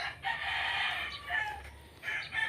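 A Texas-breed rooster crowing nearby on a farm, two drawn-out calls with a brief break between, fairly clear against quiet background noise.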